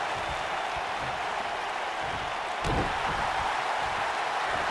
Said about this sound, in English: of course they're going to be cheering for Diamond.